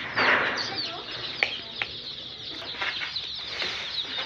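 Young ten-day-old chicks in a brooder at a poultry farm in Darrang, Assam, peep and cheep continuously at close range, with a faint voice talking underneath.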